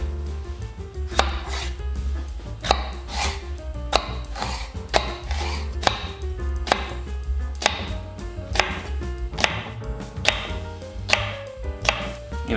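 A knife chops a washed cucumber on a cutting board for a fresh cantaloupe salad, giving a steady series of sharp, close taps over about twelve seconds with a low background hum and no talking.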